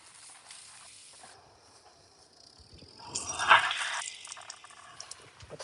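Water pours into a bowl set aside for washing a BMW X135i, a splashing, hissing fill that swells in the middle and tapers off, close and moderately loud with no talking.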